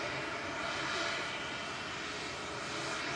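Broad, steady roar of an Etihad airliner's engines as it crosses at Manchester Airport, a continuous wash of jet noise heard from a distance with no clear peaks.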